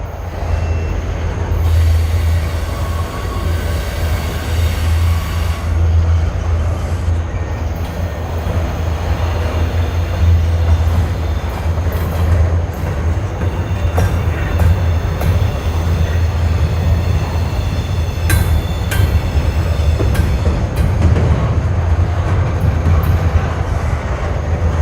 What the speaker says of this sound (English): you can watch the train pass by here on the curve